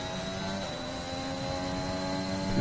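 An F1 car engine in a racing video game drones at steady high pitch, then rises slightly as the car accelerates, a continuous loud whine without voices.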